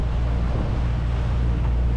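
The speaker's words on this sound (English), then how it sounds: "We're just going to motor sail across here, and then motor sail behind the island." Sailboat motor sailing in the Caribbean between Bequia and St. Vincent, a steady low engine drone mixed with gusting wind buffeting the microphone and rushing water, loud and continuous with no talking.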